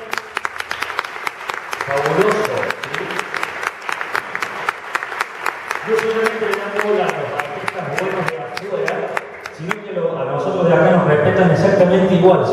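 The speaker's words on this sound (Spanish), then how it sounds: "quiero pedir otro aplauso enorme para la gente del Instituto Hermanos Ábalos" Warm applause from an audience at a cultural centre show in Río Cuarto: sustained, loud clapping all the way through, with a presenter's voice speaking over it.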